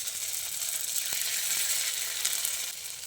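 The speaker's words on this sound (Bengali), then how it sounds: "বড়াগুলোকে এবার ভেজে নেব। তার জন্য একটা কড়াই গরম করে এর মধ্যে দিয়ে দিচ্ছি অল্প পরিমাণে একটু সর্ষের তেল।" Lentil paste fritters (bora) frying in a small amount of mustard oil in a wok, a continuous moderate sizzling hiss heard close, with a faint tap or two and no talking.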